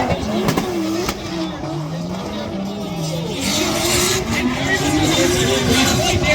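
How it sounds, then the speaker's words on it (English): Drift car at the Irish Drift Festival 2024 in Rosegreen, Co Tipperary, its engine revving and rising in pitch as it slides, with brief handbrake moments, loud and sustained under a commentator's voice. "Dabbing a handbrake now, gets it out to that nice outside line"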